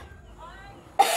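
A single abrupt cough bursts out at the end after a brief quiet, low murmur.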